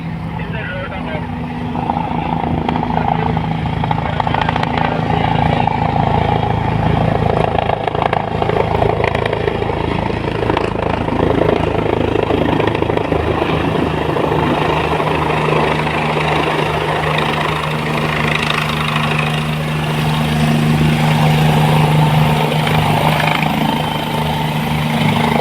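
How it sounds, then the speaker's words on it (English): An air ambulance helicopter landing in Chennai makes a loud, steady engine and rotor drone that persists throughout, with people talking over the noise. "the helicopter is most probably expected to land now."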